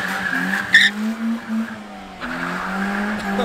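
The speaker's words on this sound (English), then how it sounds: "It burns out with one tire in the back" A car with a manual stick shift does a burnout, one rear tire spinning, with a sustained tire squeal and engine drone throughout and a sharper squeal burst near the start.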